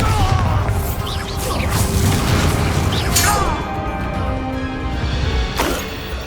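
Bombarda blasting spell explosion in the Hogwarts Legacy video game, heavy booming blasts and crashes layered with whooshes and game sound effects, fairly loud and continuous.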